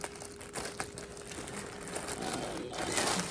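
A plastic shipping bag from an online order crinkles and rustles close up, with steady, faint, continuous crackling throughout.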